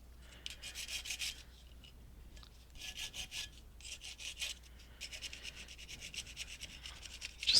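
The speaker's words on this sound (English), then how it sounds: "Just give it a scuff here and there." Repeated rasping scuffs as a polymer clay wine glass tea light holder is rubbed back to a distressed finish, short bursts of scratchy strokes with brief pauses between them, close and dry.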